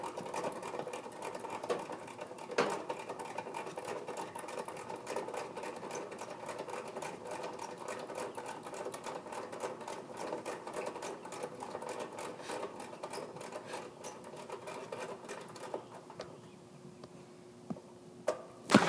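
An air conditioner compressor runs during a refrigerant pump-down before a TXV replacement, giving a fast, steady mechanical pulsing that continues for most of the stretch, with a few louder clicks and knocks near the end.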